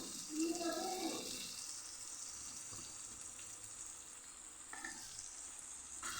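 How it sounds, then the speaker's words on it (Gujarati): Marinated okra frying in a pan as it is stirred, with a soft sizzle and a brief scrape near the start, continuing faintly and steadily afterward with no talking. "હવે ખોલીને આપણે પાછું હલાવી લઈશું"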